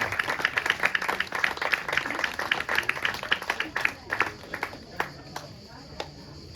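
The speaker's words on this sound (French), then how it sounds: "d'applaudir bien sûr le comité" Audience clapping for a newly installed committee at a golf club handover ceremony: brisk, moderately close applause from a small group that thins out and fades into scattered last claps, with some talking mixed in.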